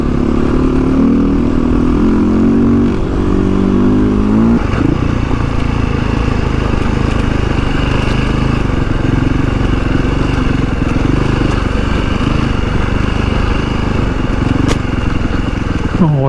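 A Beta 480 adventure motorcycle's engine drones loud and close while riding, rising through a rev early on and then holding a steady rumble, with wind and a rider's voice over it.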